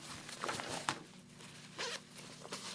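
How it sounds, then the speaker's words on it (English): Zipper on the hand-warmer pocket of a Noru Kaze mesh motorcycle jacket with 600D fabric, pulled in several quick, close rasping strokes with brief pauses between. "we've got zippered hand warmer style pockets, both sides."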